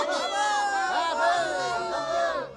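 A crowd of high, excited voices cheers and whoops together in a loud, brief burst of acclaim.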